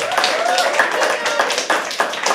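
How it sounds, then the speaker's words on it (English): Audience at a live poetry open mic claps continuously, a dense crackle of many hands with a voice faintly rising through it. "Keep clapping till she comes on stage."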